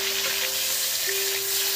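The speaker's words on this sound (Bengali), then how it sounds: "বেগুনগুলো আমি উল্টে পাল্টে দিচ্ছি" Eggplant slices fry and sizzle steadily in hot oil in a pan while being turned, for a dai begun dish; a continuous close hiss with a faint tonal hum, no talk.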